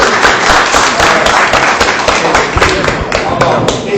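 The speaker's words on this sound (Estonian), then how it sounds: "teeme aplausi" Applause at the close of a rural municipal council meeting in Viru-Nigula, Estonia: a dense, steady wash of many hands clapping for the full four seconds, with voices mixed in beneath it.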